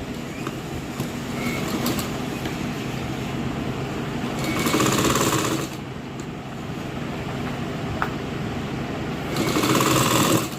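A sewing machine stitches a half-inch folded hem on the reverse side of a dress being fitted with a frill, its rapid mechanical whir swelling into two louder stitching runs.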